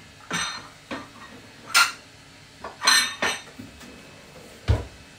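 Ceramic plates clink and clatter as they are lifted out of a kitchen cupboard, several separate knocks and chinks spaced out over a few seconds, close and clear.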